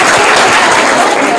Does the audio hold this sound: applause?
yes